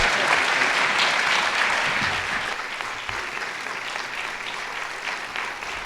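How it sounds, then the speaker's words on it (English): An audience at a congressional district debate in Santa Barbara applauds the candidates, a broad wash of many hands clapping, strong at first and thinning a little after the midpoint while continuing steadily. "Let's have a warm round of applause for all of the candidates who showed up tonight."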